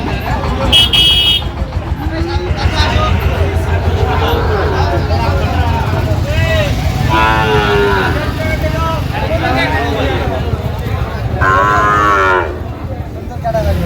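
Several Sahiwal cattle moo loudly and repeatedly amid a busy crowd of people talking at a cattle market, with an occasional horn in the background.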